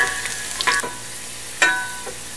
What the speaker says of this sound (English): so we've got about 3 teaspoons of chopped garlic here. We're going to stir it in just for about 30 seconds or so.